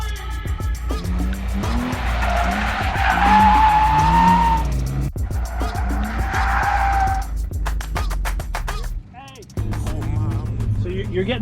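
A car drifting donuts makes loud, sustained tire squeals that rise and wobble with the engine revving underneath, broken by brief pauses and a short gap near the end.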